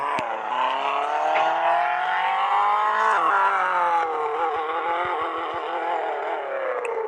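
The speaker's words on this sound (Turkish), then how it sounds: "bak kapattım ya arabanın sesi değişti" A car engine hums steadily at close range, its pitch rising and falling slightly as it revs, with a brief change in tone partway through.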